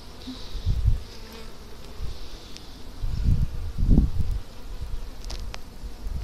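A steady drone of many bees buzzing close by in an opened hive during inspection, with some rustling and handling noise underneath.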